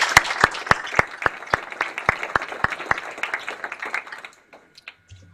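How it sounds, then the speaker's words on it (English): Applause from a hall of fame induction ceremony audience for the board of directors: a dense patter of many hands layered with a few sharp, regular loud claps, tapering off and fading out after about four seconds. "How about a round of applause for our board of directors?"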